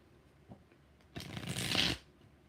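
Tarot cards shuffled once in a quick riffle, a dense papery flutter lasting under a second after a small tap, close and fairly loud against a quiet room.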